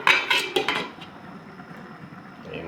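Metal lid clattering back onto a cooking pan of sauteed vegetables with alugbati, a few sharp close clinks in quick succession, then a quiet sizzle underneath.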